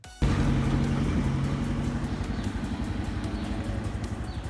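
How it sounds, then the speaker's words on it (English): A rented scooter climbs steep, winding and bumpy mountain roads toward Doi Pui Village near Chiang Mai, its engine a loud, steady close-up drone over rushing wind rumble, starting abruptly and holding without pause. "we rented a scooter for the day and began our ride up to Doi Pui Village"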